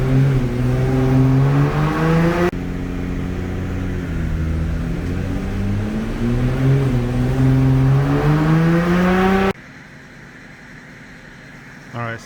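Nissan GT-R Nismo on stock injectors revving hard on a dyno, a loud rising engine drone with shifting harmonics for about nine seconds before dropping off to quieter background noise.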